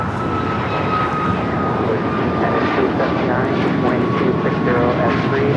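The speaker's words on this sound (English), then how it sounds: "This is Cayman Airways 481 taking off to Georgetown on the MAX 8" A Cayman Airways Boeing 737 MAX 8 takes off, giving a loud, steady broadband jet roar with a sustained tonal whine that holds throughout, while voices talk faintly under the noise.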